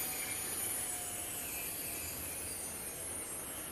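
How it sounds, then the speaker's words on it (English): Emergency brake on a train in Train Life, a steady broadband metallic squeal and rushing grind that holds loud and continuous throughout with a high whine on top. "abusing the emergency brake at this point"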